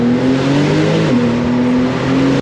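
The 820 hp Brabus-tuned Porsche 911 Turbo S roars loudly and close, holding a strong, steady engine note with a brief dip in pitch before it climbs again, then cuts off abruptly.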